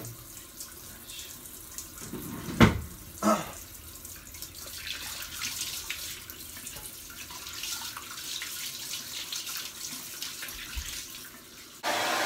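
Tap water runs steadily to rinse hair dye out of hair, a continuous close splashing flow with a couple of louder splashes near the start.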